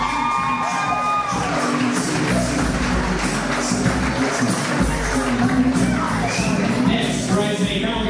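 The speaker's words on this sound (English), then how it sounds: "let's have a nice round of applause for bridesmaid Michelle Schaffer" A wedding reception crowd applauds and cheers loudly as the bridal party enters, a continuous dense wash of clapping with whoops and shouts running through all eight seconds.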